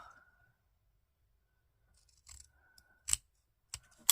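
Scissors snip through paper while trimming scrapbook album pages, giving a few short, crisp cuts near the end after a mostly quiet stretch with faint handling noise.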